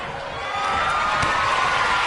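Crowd at a wrestling show cheering, a dense roar of voices that swells after the first half-second and holds loud to the end, with a few whoops poking through.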